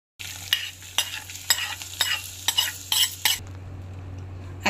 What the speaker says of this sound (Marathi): आता ही आपण ह्या कांद्यामध्ये मिक्स करायची आहे.